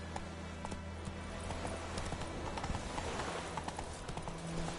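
In a PlayStation 4 video game, the horse Roach gallops with a quick, rhythmic clip-clop of hooves that stays fairly faint and steady across the whole stretch.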